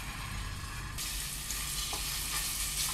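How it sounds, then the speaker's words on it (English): Minced garlic sautés in a pan, giving a dense, even sizzle that flares louder partway through as it hits the hot oil, with faint stirring beneath. "so we have our minced garlic. We're gonna saute that."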